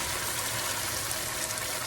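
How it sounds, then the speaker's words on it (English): A steady, soft pour of coconut milk streams continuously into a pan for a Malay fish curry, a gentle watery rush with no voices. "we're going to add in about 1 cup of coconut milk"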